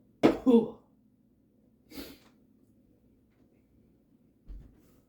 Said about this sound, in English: Coughing habits.